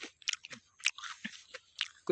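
Someone bites into and chews ripe Thai apple jujube (kul) fruit picked in a home garden, giving several close, crisp crunches in an irregular rhythm with short pauses between bites.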